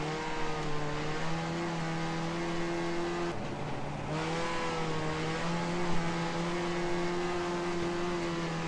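A race car engine in the Second Life video game drones at a steady, loud idle for several seconds, briefly dipping before settling back to the same even hum, with no talking.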